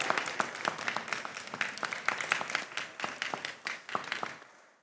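Audience members at a school quiz competition clap for the contestants, a lively patter of many hands with crisp individual claps, fairly close and steady before tapering off at the end.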